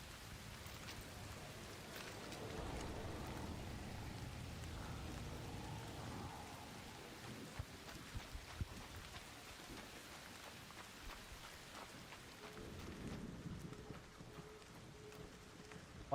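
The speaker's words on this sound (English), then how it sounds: "Why is it so rainy?" Steady rain falls across a night scene in the game Night Swarm, a continuous hiss of drops that stays fairly soft and even throughout, with a few brief louder taps near the middle.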